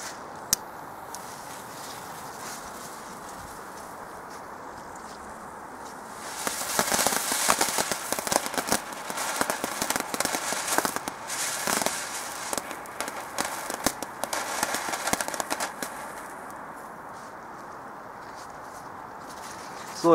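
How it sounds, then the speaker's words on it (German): Flitze-Feuerstein fireworks crackle and fizz continuously for several seconds in a dense, loud burst of sparkling pops, then fade back to quieter background noise. "Fangen wir an mit den Flitze-Feuerstein."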